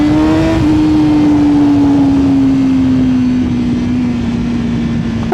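A loud, close exhaust from a 2025 Honda CBR1000RR-R SP Fireblade sport motorcycle drones steadily, its pitch sinking slowly as the engine eases off, with rushing wind noise throughout and no voices.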